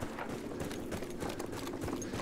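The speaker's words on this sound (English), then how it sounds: "There's horses." Horses gallop in Battlefield 1, a rapid, continuous drumming of hooves that is close and moderately loud for the whole short burst, with no talking.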